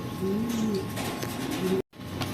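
Racing pigeons coo in soft, low, rolling calls at close range, a couple of repeated phrases against quiet loft background, with no talking.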